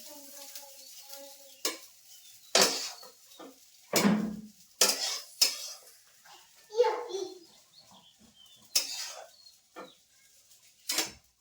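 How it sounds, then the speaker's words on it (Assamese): Cooked rice is stir-fried in a pan, with a spoon scraping and clinking against the metal in scattered strokes amid a faint sizzle, while people talk throughout. "এতিয়া ভাতখিনি অকণমান ফ্ৰাই কৰি লৈছোঁ"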